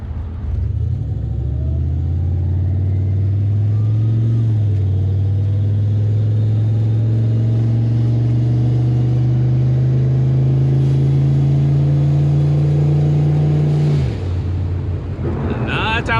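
A Ford Mustang with an aluminum drive shaft drives under load, its engine droning loud and close as it climbs steadily in pitch, then drops off sharply near the end, with wind noise and a voice under it.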